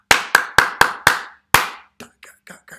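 Hands clap a rhythm of five quick, evenly spaced claps and then one more after a pause, followed by softer rhythmic syllables from a voice.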